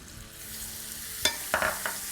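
Grated onion tossed into hot oil in a pan for a masala fish dish, giving a soft background sizzle broken by a few sharp, splashy bursts as it hits the oil and is stirred.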